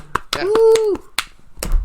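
Sharp hand claps ring out several times close to the mic, mixed with a sustained vocal tone and brief voices.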